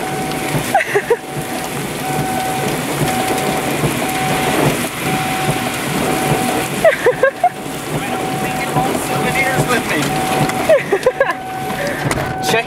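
Large hailstones pounding a truck during a storm chase in the Mississippi Delta, a dense continuous clatter of hard impacts on metal and glass, close and loud, with excited voices talking over it.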